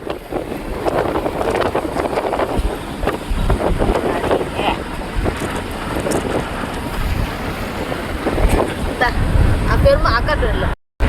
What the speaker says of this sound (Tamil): காத்தடிக்குது பாருங்க. டோர் ஓப்பன் பண்ணி விட்டாச்சு.